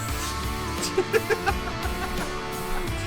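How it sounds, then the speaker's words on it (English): Several short bird calls ring out near a mountain trail in the Adirondacks (Ampersand Mountain), a cluster of quick chirps around the middle over a steady background wash. "Hello, birds."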